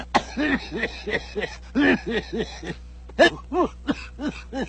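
A series of short, harsh coughs in quick bursts, some clustered together, fairly close and moderately loud with no talking.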